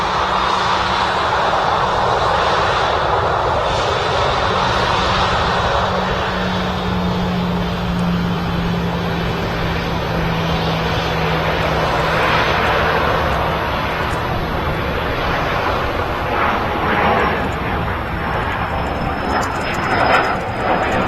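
An EasyJet airliner at Manchester Airport roars loudly and steadily for the whole stretch. A voice is heard talking over the engine noise.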